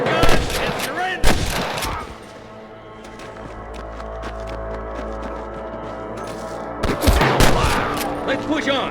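Gunfire in the video game Red Dead Redemption, a loud cluster of shots at the start and again near the end, separated by a quieter stretch of low rumbling ambience, with character voices in between.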